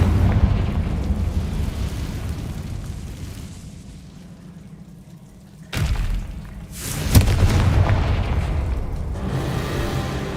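A Confringo spell from Hogwarts Legacy explodes as a sharp burst. A rumbling boom follows and trails into a lower roar, with a second thumping hit shortly after over a continuing background rumble.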